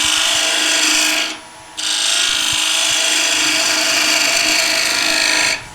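Wood lathe turning a wooden table lamp piece, a loud, continuous hiss of a gouge cutting spindle wood that breaks off briefly partway through and resumes, with the motor's steady hum underneath and no talking.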